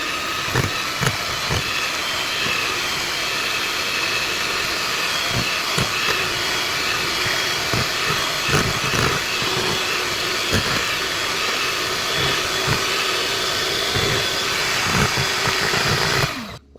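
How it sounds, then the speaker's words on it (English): Electric mixer beating strawberry blondie batter: a continuous close whirring motor with irregular clicks and knocks as the beaters hit the bowl, ending in an abrupt shutoff. "now you're going to mix it for 2 minutes"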